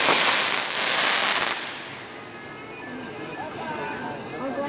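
Fourth of July fireworks going off, a loud hissing crackle at the start that fades into a rumbling outdoor background, with people talking nearby.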